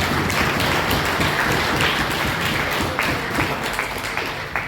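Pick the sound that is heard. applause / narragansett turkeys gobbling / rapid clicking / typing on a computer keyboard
applause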